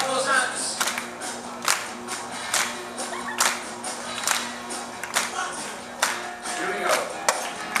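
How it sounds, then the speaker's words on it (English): Rhythmic hand clapping from a party crowd aboard a cruise ship cocktail party, spaced claps under music and voices, moderately loud. "Come on, clap those hands."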